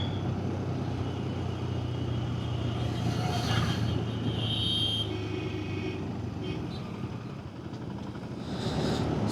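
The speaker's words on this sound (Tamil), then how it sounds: "லாரி இங்கே பின்னாடி போகிறது இருக்குது பார்த்திங்களா" Steady engine drone and road roar of a lorry passing behind on the hill road to Ooty, heard from a TVS Raider motorcycle, a continuous moderately loud rumble with no talk.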